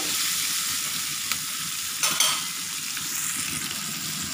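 Sweet and sour tilapia is stirred in a pan over a steady, close frying sizzle, broken by a couple of brief utensil scrapes around the middle; no voices.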